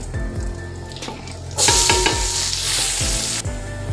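Onions hit hot oil with browning ginger-garlic paste, sending up a loud, sudden burst of sizzling frying that continues while a spoon scrapes and stirs the pan in regular strokes.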